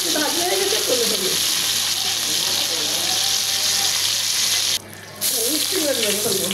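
Fish sizzles steadily while frying in hot oil for a curry with pumpkin, a dense continuous crackle at close range with a brief dip in the hiss near the end.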